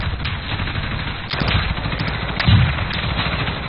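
Rapid automatic gunfire in a video game firefight, sustained bursts with a few sharper cracks and a heavier hit near the end, loud and close with no talk.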